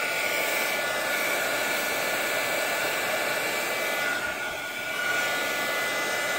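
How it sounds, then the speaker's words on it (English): A heat gun blows a loud, steady, close roar as it melts embossing powder for an enamel look on butterflies, with a brief dip in airflow near the end and no talk. "you kind of have to figure out how far you have to hold your heat gun"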